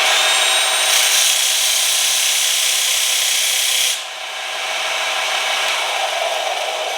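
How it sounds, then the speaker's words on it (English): A disc sander runs wide open as a tungsten electrode is sharpened against it, a steady loud whirring grind that shifts tone partway through as contact changes. "I'll take this over to the sander on my disc portion of it"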